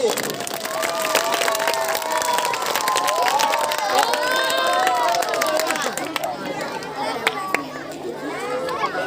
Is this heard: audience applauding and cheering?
yes